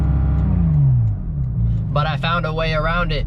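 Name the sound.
Porsche GT3 RS engine revved in neutral against rev limiter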